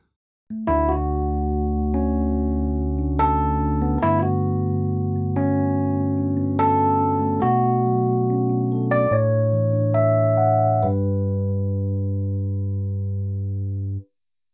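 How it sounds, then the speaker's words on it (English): A sequence of sustained synth chords with a shimmering, chorus-like short reverb from a Valhalla plugin, each chord changing every second or so before a final held chord fades. "now the more chorusy type short reverb"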